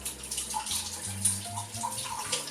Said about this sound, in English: Just put your hand over the jar and you just strain them, the water out.